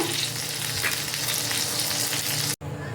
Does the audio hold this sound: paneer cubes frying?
yes